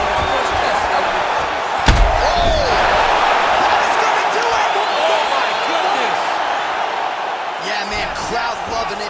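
Arena crowd cheering and roaring continuously in the UFC 5 video game after a fight-ending strike, with a sharp slam near the start and commentary voices running over the steady noise.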